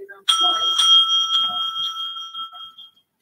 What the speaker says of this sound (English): At the end of the 8th minute, the bell will be rung twice